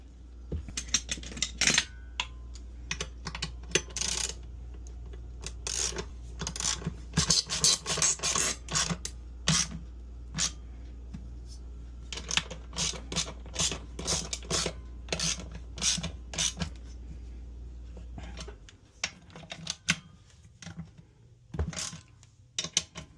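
Bolts and washers are fitted onto a Drummond 1 HP submersible sprinkler pump, model 63320, giving close, irregular metallic clinks, taps and scraping rasps separated by short pauses.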